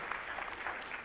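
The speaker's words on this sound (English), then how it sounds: "claps don't count against my time, okay?" A keynote audience at a conference claps in a steady, even burst of applause without any talking.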